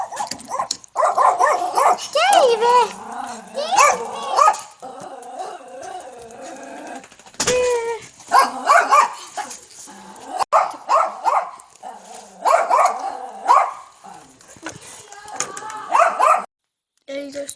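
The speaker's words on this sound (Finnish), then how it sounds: "Miten koirat haukkuu, kun se tietää, että me tullaan?" Several dogs bark excitedly in bursts at visitors arriving at a house, fairly close, mixed with people's greetings and chatter in Finnish.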